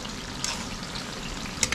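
Mung beans cooking in a pan make a steady low simmering sizzle, close and even, with a couple of brief sharper clinks near the end.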